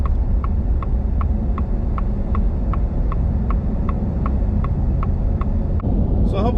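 A 2023 Tremor truck with a 7.3 gas engine, towing a large boat, drones steadily from inside the cab with a low rumble as it downshifts on a slowdown, while a faint ticking clicks in a regular rhythm over the engine.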